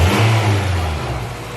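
A Honda B18 car engine with new injectors revs up loudly and close, holding high briefly before the revs drop back toward idle.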